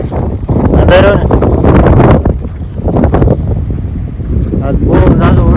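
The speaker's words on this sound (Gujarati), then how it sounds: "મસ્ત ટાટો પવન આવે" Strong cold wind blows across a farm ahead of rain, gusting hard and rumbling against the microphone, while people talk loudly over it.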